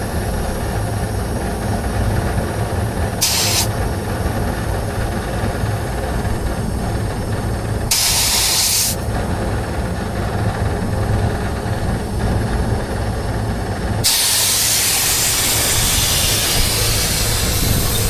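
R22 refrigerant hisses steadily into an HVAC system during charging after an R11 flush, a continuous broadband rush with short bright bursts and a louder, sustained surge near the end, with no talk.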